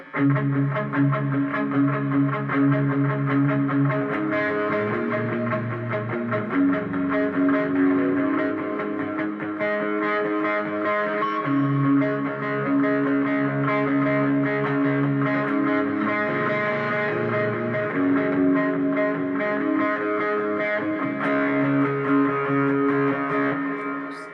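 Electric guitar with effects plays the verse part of a song, a steady wash of sustained, layered notes and chord tones running continuously and loud with no talking.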